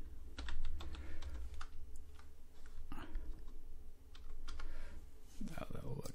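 Close, rapid keystrokes on a computer keyboard clatter in an uneven burst of clicks over a steady low hum, with a pause around the middle before the tapping resumes.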